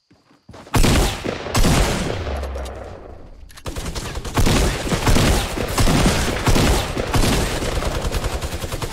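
Fortnite gunfire from many weapons, including miniguns, erupts in a loud, near-continuous barrage of rapid overlapping shots after a brief quiet start, with almost no talking.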